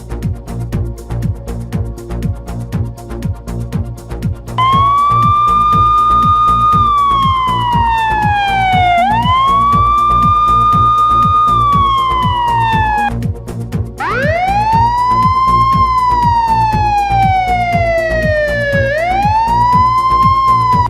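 A police car siren wails loud and near, its rising and falling tone sweeping repeatedly, cutting out briefly and then returning with a sharper restart, with no talking.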